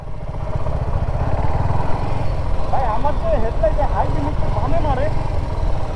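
A motorcycle engine runs steadily at idle nearby, a continuous low throbbing with faint background chatter.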